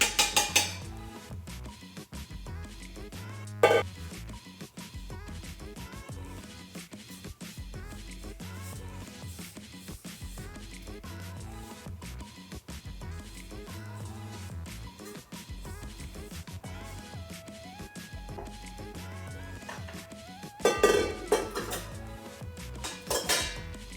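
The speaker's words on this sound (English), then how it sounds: "We're going to take this mixture and fold it into our flour mixture." Carrot cake cookie batter is folded into the flour mixture in a bowl, with repeated clinks and scrapes of a utensil against the bowl, close and moderately loud, with no voices.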